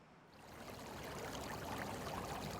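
A small mountain stream in early spring flows steadily, a soft broadband rush that fades in and then holds a constant, close babble with no voices.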